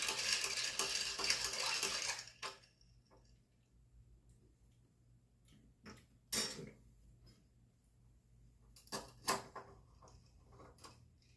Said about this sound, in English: Going to stir it until it's chilled.